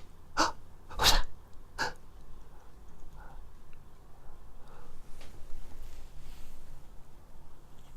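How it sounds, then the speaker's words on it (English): A person sneezes several sharp times in quick succession near the start, followed by quieter breathy noises and faint background sounds. "did you sneeze?"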